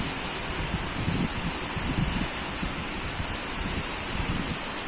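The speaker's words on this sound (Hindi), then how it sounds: "इतनी तेज़ बारिश हो रही है" Heavy rain with strong wind outdoors makes a dense, steady roaring wash, loud and unbroken with gusty rustling throughout, no voices.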